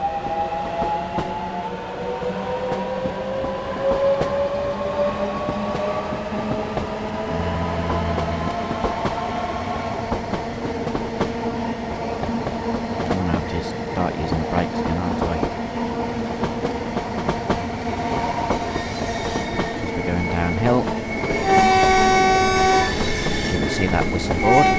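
A train in Train Sim World 5 pulls away from a platform, its steady engine rumble and rising motor whine building over about twenty-five seconds, with clattering wheels, a horn blast near the end, and someone talking over it.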